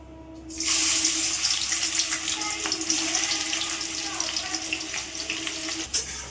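Sliced onions drop into hot oil in a wok and a loud, steady sizzle erupts at once. The frying stays close and continuous until it stops suddenly near the end.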